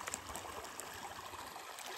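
A stream flowing near a waterfall gives a steady, close rushing and trickling of water, continuous and fairly loud with no voices over it.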